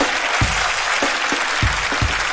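Audience applause at a live comedy show, loud close clapping from a crowd with a few distinct sharp claps punching through a dense continuous roar, no talking over it.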